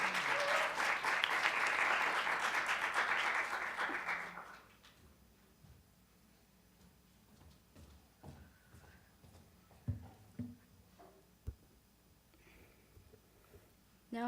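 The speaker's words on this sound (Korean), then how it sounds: "학생의 연설을 박수로 맞이하겠습니다" An audience applauds to welcome a student's speech at a high school event, with loud, sustained clapping for about four seconds that then stops abruptly, leaving faint breathing, sniffs and small room noises.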